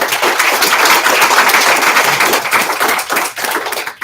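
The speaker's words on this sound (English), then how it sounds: "Big round of applause to all those students." An audience at a school board meeting gives a sustained round of applause for elementary students, a dense wash of many hands clapping close and loud throughout, tapering slightly near the end.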